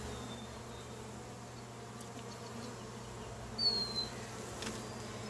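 Honey bees buzz softly during a hive inspection, a low steady drone with a few brief, louder passes as individual bees fly close, no talking.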